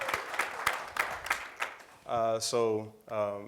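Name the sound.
audience applause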